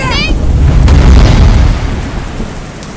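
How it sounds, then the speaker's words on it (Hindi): A heavy downpour with a deep rumbling boom of thunder in a storm, loud and close; a few bright twittering sounds open the moment. "तूफान और बारिश बहुत तेज है ना"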